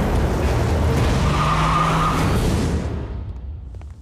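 Tires screech loudly in a long, sustained car skid from an action film, a dense roar close up that holds for several seconds before fading.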